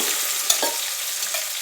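Chopped onion goes into hot oil already holding mustard seeds, cumin and green chillies for a spiced khichdi, giving a steady close sizzle with a couple of quick stirring scrapes.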